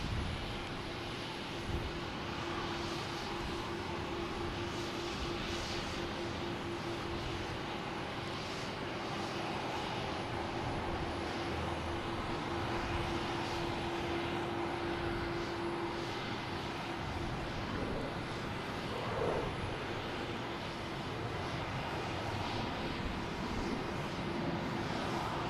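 A JetBlue jet airliner at an airport gives off a steady, fairly distant engine roar with a faint sustained tonal hum, continuous and even throughout with no voices.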